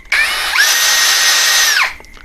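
An OSUKA 5in1 OCD701-D1 cordless drill with interchangeable heads whirs loudly and close, spinning up quickly, holding a steady high whine for over a second, then winding down, with no speech.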